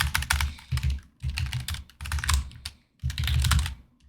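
Bursts of rapid typing on a computer keyboard, close and clear, with dense clattering key presses in several runs broken by short pauses.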